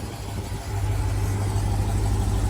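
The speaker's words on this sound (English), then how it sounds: "got the Trackhawk running with the brand new Demon motor from Dodge" A customer 2020 Jeep Trackhawk fitted with a new Dodge Demon engine, aftermarket exhaust and pulleys, running on E85, idles steadily up close with a deep low rumble that swells slightly after a moment, no talk.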